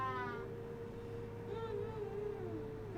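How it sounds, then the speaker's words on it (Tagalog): A pet cat gives a few faint, drawn-out meows at a distance, low against a steady background hum. "pusa"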